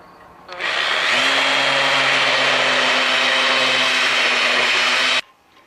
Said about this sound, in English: So I want to just deburr the cut end a little bit.